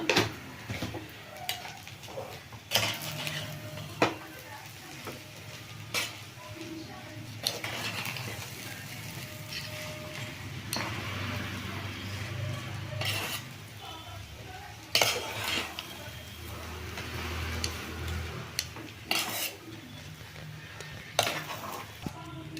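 A metal spoon stirs and scrapes through curry leaves rice in a pan on the stove, with steady scraping and occasional clinks against the pan over a faint sizzle, continuing for a long stretch.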